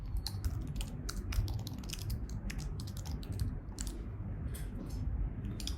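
Someone types an email address on a computer keyboard in a fast, irregular run of light clicking keystrokes. The clicks are fairly faint and sit over a steady low background hum.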